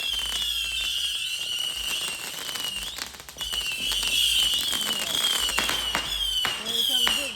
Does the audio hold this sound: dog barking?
no